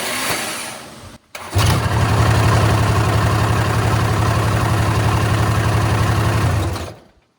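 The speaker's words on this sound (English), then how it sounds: "it started with the ignition switch and also was able to kill it with the ignition switch without touching the engine whatsoever" A small engine fires up from an ignition switch after a brief click, idles steadily and loudly close by for several seconds, then is killed and dies away into silence.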